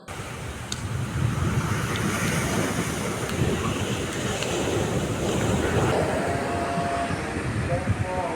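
Steady, heavy roar of surf from a severe sea surge washing in continuously onto a coast without a sea wall, a broad rushing wash of waves with no voices.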